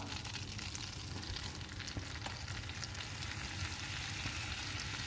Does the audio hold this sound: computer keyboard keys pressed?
no